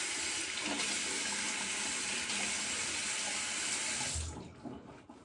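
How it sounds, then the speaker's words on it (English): A faucet runs steadily into a sink with a full, even rush of water and stops abruptly near the end. "I'm just running the faucet for that"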